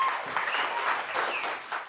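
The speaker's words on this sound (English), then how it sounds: "Give yourself a round of applause there." An audience claps warmly after a math rap counting multiples of nine, a dense rustling patter of hands that swells and eases slightly, with faint voices mixed underneath.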